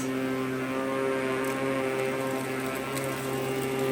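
A Kenmore Progressive canister vacuum cleaner runs with its agitating brush engaged, giving off a steady, close motor drone with a tonal whine and faint rattling, unbroken and heard alone.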